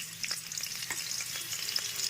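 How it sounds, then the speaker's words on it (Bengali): Steady sizzling of potatoes frying in hot oil with a little sugar, a dense crackle with occasional louder pops, close and continuous with no voices. "চিনিটা দেওয়ার সঙ্গে সঙ্গে আলুগুলো ছেড়ে দেবো তেলের মধ্যে।"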